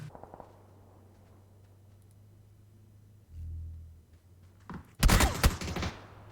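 Gunfire in a shooting video game: a low rumble and thud, then a loud burst of rapid shots near the end, dense and sharp.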